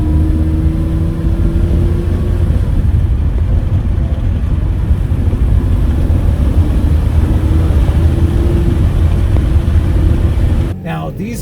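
A 1982 Ferrari 400i V12 with a five-speed manual gearbox drones loudly from inside the car while driving. Its pitch climbs, drops at the gear shifts, then rises again. A person talks over the engine noise.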